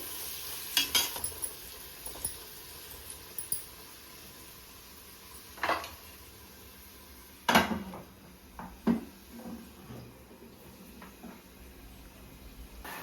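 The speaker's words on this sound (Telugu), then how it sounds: "ఇవి కూడా ఆయిల్లో ఫ్రై అయ్యే వరకు కొంచెం ఒక 2 మినిట్స్ వెయిట్ చేస్తే ఫ్రై అయిపోతాయి" Tomatoes fry gently in oil for egg pulao, a soft steady sizzle broken by occasional scraping clinks of a spoon stirring the pan, close by with no talking.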